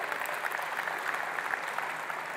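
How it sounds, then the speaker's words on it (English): Steady audience applause at a tech presentation, a dense even patter of many hands clapping alone at moderate loudness without pauses. "You can clap for that."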